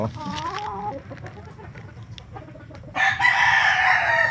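A red rooster in a backyard gives a loud, close crow, then quieter clucking, followed by a burst of high bright chirping; a voice talks faintly in the background.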